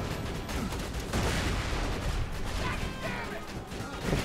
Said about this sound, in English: I'm just throwing some grenades around.